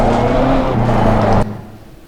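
Race car in Assetto Corsa Competizione at Spa-Francorchamps, a loud steady engine tone that drops in pitch under light braking, then cuts sharply to a quieter fading rumble after about a second and a half.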